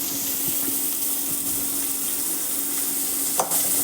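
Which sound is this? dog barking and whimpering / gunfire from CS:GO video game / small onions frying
small onions frying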